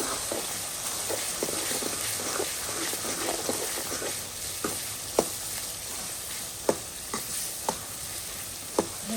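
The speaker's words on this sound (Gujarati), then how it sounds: "જો આપણે આવી રીતે બધું હલાઈ નાખવાનું છે અને આમને ચડવા દેવાનું છે થોડીક વાર" Spiced green Bombay duck fish frying in a pan, with a steady close sizzle and a series of sharp scraping clicks as it is stirred, no talking.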